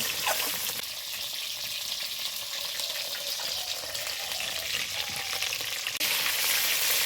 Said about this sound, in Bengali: এই পটলগুলো খুব কড়া করে ভাজা যাবে না আর একটু আমি ভালো করে ভেজে নেব